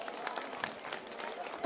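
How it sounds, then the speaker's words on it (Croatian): A crowd at the Međimurje carnival in Čakovec applauds during a presentation of costumed mask groups, a dense, even patter of many hands heard faintly from a distance with no break. "Znate li će dati jedan veliki aplauz"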